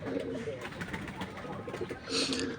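A pigeon sitting on its eggs in a small backyard aviary gives soft, low coos close by, a few phrases over faint background noise.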